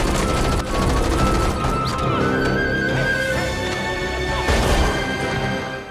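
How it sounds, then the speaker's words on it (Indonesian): Soldiers open fire in a film scene: dense, loud bursts of gunfire and crashing impacts fill the whole stretch, with chaotic noise and faint voices mixed in. "Dan di saat yang bersamaan, para pasukan itu datang dan menembaki mereka berdua"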